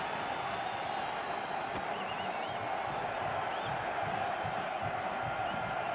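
A stadium crowd at a Guatemala vs El Salvador Concacaf qualifier keeps up a continuous, distant roar and chatter, with faint whistles and whoops rising within the wash of sound.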